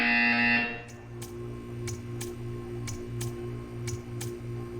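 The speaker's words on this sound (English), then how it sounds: "When you hear the buzzer, stare at the art." A repeating buzzer in the video game Portal 2 sounds in regular short pulses, about one every half second to second, following a brief louder tone at the start over a steady low hum.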